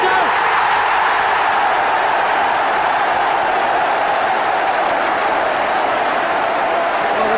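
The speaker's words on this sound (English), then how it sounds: "the crowd showed their appreciation" A large football stadium crowd at a Tottenham Hotspur versus Manchester United Division One match roars and applauds after a headed goal, forming a dense, loud, unbroken wash of cheering and clapping.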